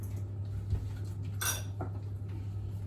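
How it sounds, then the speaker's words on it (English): A utensil works oat and raisin cookie dough, with banana, apple and raisins, in a mixing bowl, giving one bright clink against the bowl over a steady low hum, with softer scrapes around it and no talking. "and then you mix the dry and the wet"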